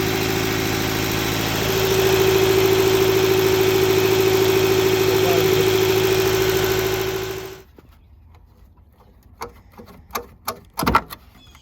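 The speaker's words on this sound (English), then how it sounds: "Cylinder 3 misfire. So there's a misfire." Toyota engine idling with a cylinder 3 misfire, a loud steady hum with a strong drone that runs about seven seconds before the engine cuts off, followed by quiet and a few close clunks.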